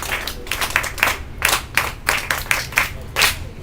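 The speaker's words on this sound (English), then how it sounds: "Children, can we once again clap for our guest of honor?" Children at a storybook box workshop clap for a guest of honor in loose, uneven bursts, distinct claps rising and falling in a rough rhythm, close and fairly loud.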